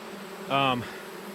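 A short, loud honey bee buzz near a hive swells for about a third of a second with a steady droning hum, then fades back into quiet background noise.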